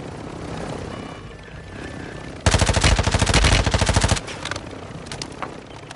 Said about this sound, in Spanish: casi me mata el helicóptero